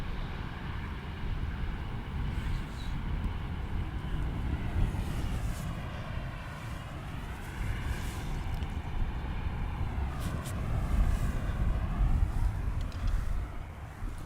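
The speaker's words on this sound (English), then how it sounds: "this is the Dreamliner from KLM coming in from Mexico City" A KLM Boeing 787 Dreamliner on approach to runway 18R at Amsterdam Schiphol, a steady broadband jet roar with shifting whine tones that swell and fade as it passes, continuous for the whole stretch with wind noise and no talk.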